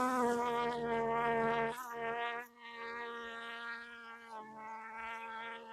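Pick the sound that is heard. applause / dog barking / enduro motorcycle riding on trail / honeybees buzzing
honeybees buzzing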